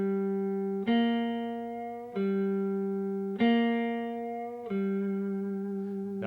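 An electric guitar, slightly driven and with a touch of reverb, rocks back and forth between a G root note and the blue note above it. Four sustained notes ring in a slow, even alternation, solo and close.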